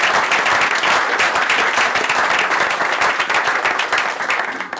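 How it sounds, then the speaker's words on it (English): An audience at a Labour political event applauds a parliamentary candidate for Walthamstow, loud sustained clapping from many people, close and continuous with no pause. "deserves a big round of applause for everyone here"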